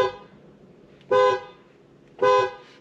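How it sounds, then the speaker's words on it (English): Two short, loud aftermarket Hella car horn honks on a Toyota RAV4 Prime, about a second apart, heard from inside the vehicle with windows up and a quiet hum between them. "So I've upgraded the horn"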